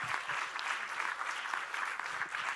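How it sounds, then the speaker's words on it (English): An audience at a national grand final event applauds: a steady, even wash of many hands clapping together, moderately distant, with no talking over it. "can we give Kia a massive round of applause too?"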